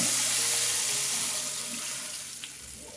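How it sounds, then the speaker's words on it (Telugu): Tamarind rasam water poured into a cooking pot of tempered spices with asafoetida, a steady rushing liquid pour, fairly loud and close, gradually tapering off over a few seconds with no voices. "ఇప్పుడు మనము రసం నీళ్ళని పోసుకుందాం"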